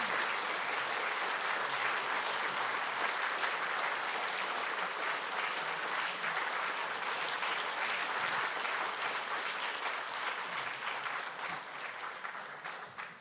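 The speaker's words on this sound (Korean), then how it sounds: "크게 하나님께 영광의 박수를 드립시다." Many people in a church congregation clap together in a long burst of applause, dense and steady throughout before easing off slightly at the end.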